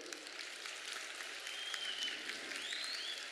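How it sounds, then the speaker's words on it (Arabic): Faint, distant audience applause at a children's entertainer show in Laghouat, a soft steady patter of clapping with a few whistles on top. "أعطونا تصفيق عليهم."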